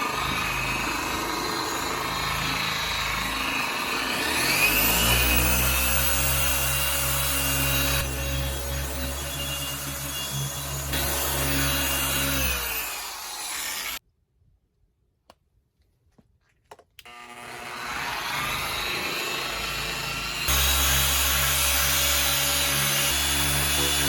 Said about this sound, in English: So I'm just going to use both of those, and then that'll be done for the headlights, and we can start buffing the paint.